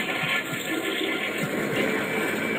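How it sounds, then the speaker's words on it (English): A toilet flushes in a video game, a steady, loud rush of water lasting throughout with no voices. "I now flush your toilet."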